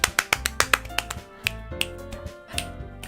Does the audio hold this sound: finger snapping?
yes